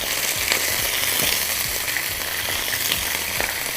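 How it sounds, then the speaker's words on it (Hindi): Onions and potatoes fry in a pan for rice, giving a loud, dense, continuous sizzle with crackling pops and occasional stirring scrapes throughout. "इसलिए मुझे आलू डालने के आलू को सारा इसके साथ मैंने फ्राई करना है"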